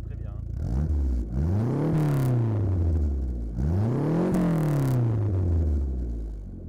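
A used car's engine running close by, revved twice with the pitch climbing and then winding back down to a smooth idle, loud and steady.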